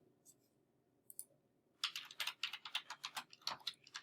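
Keys clacking on a computer keyboard as a line of R code is typed, a quick run of close, crisp clicks following a few scattered taps.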